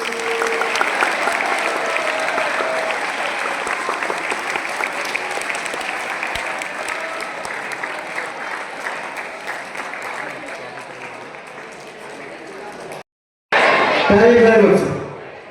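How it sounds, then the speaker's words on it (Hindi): Loud, sustained applause from a school youth-group audience fills most of the stretch, fading slightly before a brief silence and then a short burst of mixed voices and noise. "अपने लिए जोरदार तालियां बजाएं।"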